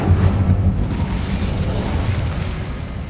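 Loud roaring whoosh of the Incendio fire spell in Hogwarts Legacy, a dense booming burst of flame that holds steady for about three seconds.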